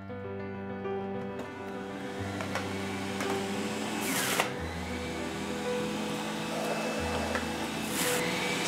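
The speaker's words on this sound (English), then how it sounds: "I'm going to turn on the juicer. It's going to make some noise at high speed." Electric juicer running at high speed while juicing apples, a steady loud motor drone with shifting low hum and a couple of brief sharp bursts as fruit is pushed in.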